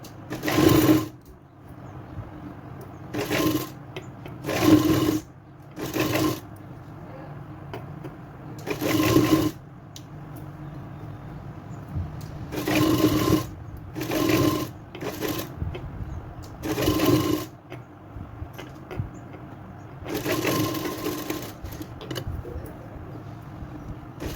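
An electric sewing machine stitches the back neck of a blouse, running in short loud whirring bursts separated by pauses, close up, with no one talking.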